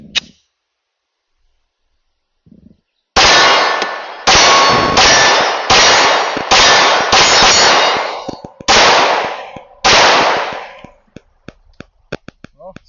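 A Glock-pattern 9mm pistol with a GoSafe magazine fires a string of loud, sharp shots at an uneven pace. Metallic clinks of ejected brass on hard ground follow, after a couple of faint handling clicks at the start.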